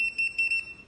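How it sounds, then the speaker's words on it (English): An electronic buzzer beeps in short, evenly spaced pulses, a thin piercing tone repeating about three times, close by. "Yes, it's buzzer."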